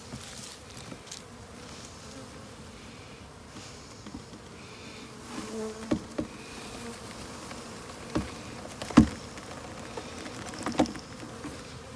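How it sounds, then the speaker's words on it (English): A dense buzz of a swarm of bees being dumped into a hive box hums steadily throughout, with a few sharper knocks and thumps rising above it in the second half. "Not quite as many bees here, but then we're just going to dump them right in this box."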